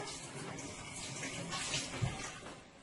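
Fresh coconut pieces are washed under running water, a continuous splashing flow with a faint knock near the end.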